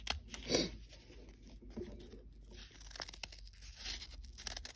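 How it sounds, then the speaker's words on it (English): Scissors cutting through thick folded paper for a stained glass project, close crisp snips and crunchy tearing sounds in uneven bursts. "And now I'm ready to cut. And I'm going to keep this folded while I cut."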